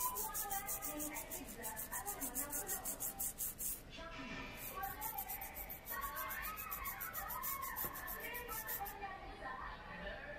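Rhythmic scraping and scrubbing on an Amiga 500 Plus circuit board to clean off battery corrosion, a quick repeated rasping stroke pattern heard close and faint, with speech partly over it.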